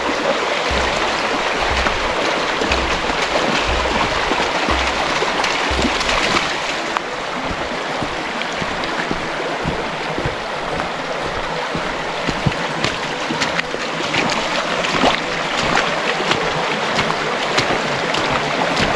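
Steady rushing water from a forest river flows continuously throughout, a broad even wash with faint low thumps underneath and no voices.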